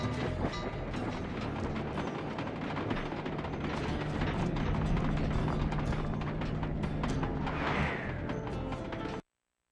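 A train in the video game Sly 2: Band of Thieves rumbles along steadily with a continuous mechanical roar and clattering, dense and loud throughout before cutting off abruptly at the end.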